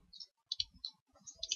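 A computer mouse gives a few light, close clicks in a quiet room, spaced unevenly in small clusters with no talk.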